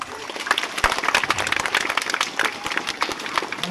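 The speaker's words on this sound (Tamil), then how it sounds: "உங்களால் கை தட்ட முடியுமா" A crowd of people applauds vigorously, a thick, continuous wash of clapping that stays loud throughout, with a bit of voice mixed in underneath.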